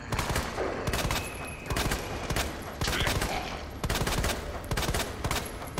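Rapid bursts of gunfire in Resident Evil 2 Remake, repeated in loud volleys with brief gaps between them, no talking.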